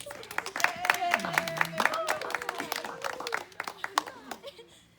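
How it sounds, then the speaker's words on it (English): Audience clapping rings out for guest speakers at a graduation ceremony, a scattered round of applause mixed with a speaker's voice and a little laughter. "Another round of applause for our guest speakers"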